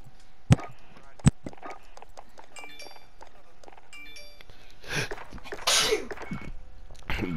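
A single sharp sneeze bursts out close to the microphone amid faint background noise and clicks during a Call of Duty: Modern Warfare gaming session, followed by a few more quick bursts.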